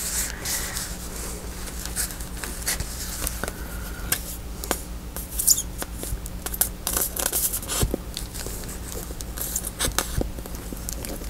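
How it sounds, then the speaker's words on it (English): Steady rain falling outside, a continuous near patter with scattered small ticks and taps from drops, lasting throughout and unbroken by any voice. "Oh, it's raining."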